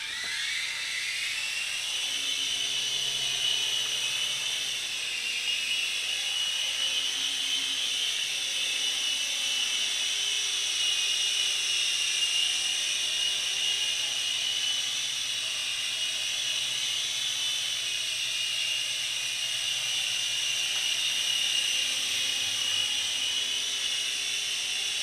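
A small Sky Rover Gravity-Z toy drone hovers and flies, its tiny propellers giving a continuous high-pitched buzzing whine that holds steady and moderately close for about twenty-five seconds, with no voices.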